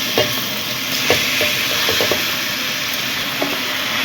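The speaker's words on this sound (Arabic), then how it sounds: "انا كده هحمر الرز برضو هيتشوح فيها تشويحة مع الشعرية بالشكل ده." Rice fries with toasted vermicelli in hot fat, a steady close sizzle and hiss broken by the scrapes and knocks of a spoon stirring at irregular intervals.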